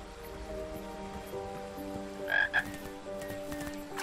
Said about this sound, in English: So here's the frogs